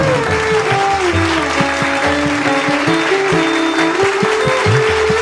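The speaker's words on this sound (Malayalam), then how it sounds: "നമ്മളുടെ ഒരു നിറഞ്ഞ കയ്യടി നിങ്ങൾ കൊടുക്കാം കേട്ടോ" Audience at a Malayalam college programme at St. Mary's College, Puthanangadi, giving sustained, loud applause that fills the hall without a break.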